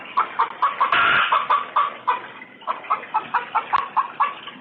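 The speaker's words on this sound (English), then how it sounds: "One of our chickens started just making a ton of noise." A laying hen sings the egg song, a loud close run of rhythmic clucks and squawks repeating steadily with one longer cackle near the start, with no voices.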